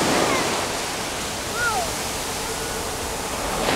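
Winter surf on a Mediterranean beach rolls in as a continuous wash of breaking waves, with a brief faint whistle-like sound over it and no clear speech.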